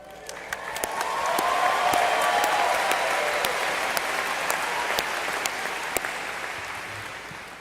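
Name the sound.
applause for graduating class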